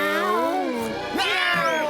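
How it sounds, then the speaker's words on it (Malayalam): A cat gives two drawn-out meows in close succession, the first long and wavering, the second rising sharply and then tailing off, loud and near with no talking. "ആ കള്ളപ്പൂച്ച വീണ്ടും വന്നോ?"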